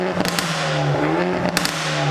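A modified Hyundai i30 N Performance exhaust rumbles at idle with a low steady drone, broken by a couple of sharp crackles and pops.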